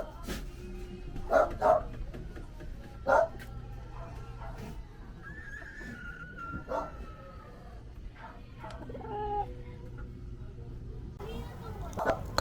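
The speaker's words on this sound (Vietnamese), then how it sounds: "Các gia đình ở đây nuôi khá nhiều chó." Dogs bark in the narrow, cramped alleys of a large Philippine slum. Several sharp, separate barks come a few seconds apart, mixed with background voices and street noise.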